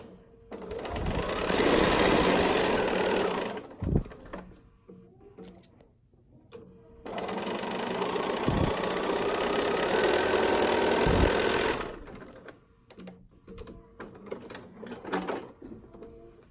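A sewing machine stitches a quarter-inch quilt seam for flat-top mountain quilt pieces in two long, steady bursts of whirring motor, separated by a pause with a few soft knocks, then fainter handling noises at the end.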